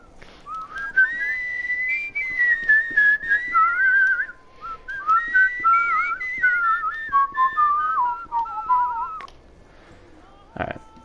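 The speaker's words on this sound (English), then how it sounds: "Let's just whistle on our way." A person whistles a wandering melody of long sliding notes and short phrases, fairly close and clear, ending with a brief knock.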